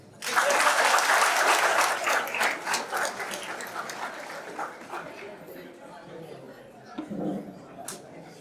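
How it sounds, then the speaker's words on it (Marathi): An audience at a lecture celebrating Constitution Day bursts into loud, dense applause that fades gradually over several seconds, leaving scattered claps and murmuring chatter. "कंटाळा आला असेल तर एकदा जोरदार टाळ्या होऊ द्या."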